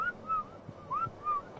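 Someone whistles a short series of rising and falling notes, with a few soft thumps between phrases, heard alone at moderate volume in a quiet room.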